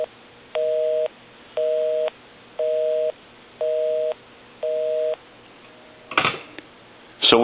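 Busy signal on a repaired brass Majesty telephone after dialing its own number: five evenly spaced on-off tone pulses, followed by a couple of clicks and handling noises.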